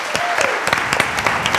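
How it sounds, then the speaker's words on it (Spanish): Audience clapping for the panelists at the close of a panel discussion, a brief burst of steady applause in a packed room, loud and close, with a voice speaking over it. "Yo quiero que le den un aplauso a estos panelistas."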